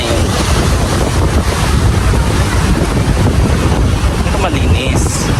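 Rough sea waves off Island Garden City of Samal, a continuous wash of surf and water noise heavily mixed with wind buffeting on the microphone, loud and unbroken from start to end.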